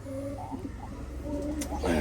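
Low, rounded coos from king pigeons sit in a busy pigeon loft, several soft pulsing calls repeating over about two seconds with steady background noise.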